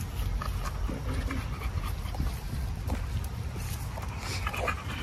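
Several dogs pant steadily close by on a walk, quick breaths over a constant low rumble of outdoor noise, with a few faint whimpers and footsteps.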